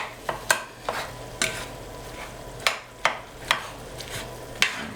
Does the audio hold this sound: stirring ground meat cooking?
yes